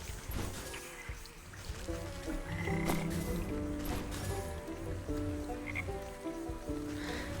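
Frogs croak continuously in the video game Wytchwood, a dense chorus of low ribbiting calls over soft trickling water ambience, heard alone without talk.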